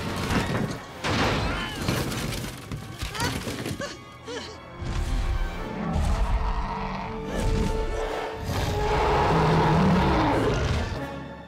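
A plane fuselage crashing and tumbling along the ground in a Jurassic Park III action sequence, with heavy crunching impacts, grinding metal and booming thuds rolling on continuously and loudly. Muffled voices sit under the din.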